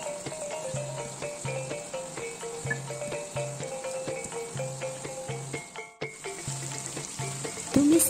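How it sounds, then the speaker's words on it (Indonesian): Ground green chilies sauté in a pan for a Minang-style sambal, giving a steady close sizzle and crackle with faint scraping stir sounds throughout and no talking. "Tumis cabai hijau yang telah digiling tadi."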